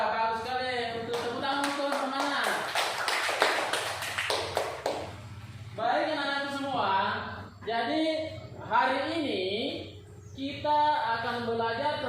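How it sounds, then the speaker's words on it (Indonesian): Students clap in a classroom, a brief burst of applause of many hands early on, followed by a teacher and pupils talking. "tepuk tangan untuk Nur Jamila."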